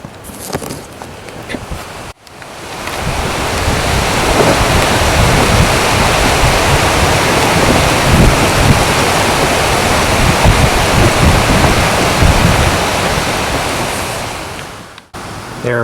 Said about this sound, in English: Now, all of a sudden, the north winds have kicked in.